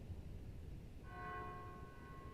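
Bells ring out in the video game Final Fantasy XII, a faint, sustained chime that enters about a second in and hangs over a low background rumble.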